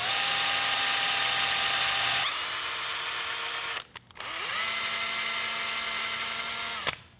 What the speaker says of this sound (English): drill and tap a hole on my trigger so I can attach this